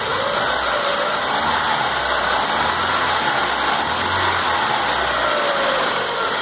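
A car engine with a misfire revs up steadily under acceleration, a continuous loud mechanical drone with a faint uneven pulsing low rumble and no talk over it.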